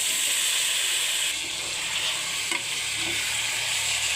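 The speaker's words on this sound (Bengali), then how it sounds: "এখন আমি সবগুলো সবজি ঢেলে নিই।" Vegetables cooking in a hot pan for a chepa shutki (fermented dried fish) curry: a continuous frying hiss that shifts as they go in, then scraping stirring and a light knock near the middle, with no speech.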